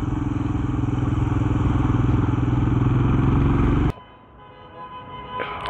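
A KTM Duke motorcycle engine runs loud and close with a steady throbbing idle for about four seconds, then cuts off abruptly, leaving faint background noise.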